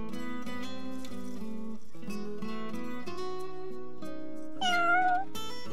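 A cat meows near the end in the video game Shining Resonance Refrain, a short rising, wavering cry that rises above steady, tuneful background music.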